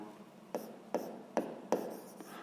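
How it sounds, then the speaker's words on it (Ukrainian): A pen writing out a sixth-grade math solution, with four or five distinct close scratchy strokes spaced roughly half a second apart over a quiet background and no voice. "пишемо"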